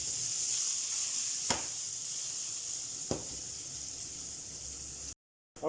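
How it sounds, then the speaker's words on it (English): Onion and garlic gently browning in oil, giving a steady hissing sizzle with two soft stirring knocks, then a brief cut and a short burst at the end. "in that same oil, I'm going to add the onion and garlic and gently brown it off."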